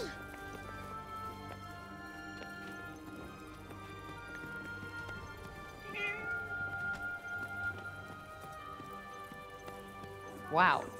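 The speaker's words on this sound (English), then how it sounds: "A cat. I'm so glad they have cats in Athia" A cat meows in the Forspoken video game, set in the town of Athia, with a faint cry near six seconds and a louder, closer meow near the end over steady game ambience and music.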